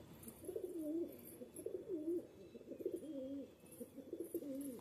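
Pigeons coo in a low, repeated, throaty rhythm, several soft rolling calls following one another at close range, with faint rustling behind them.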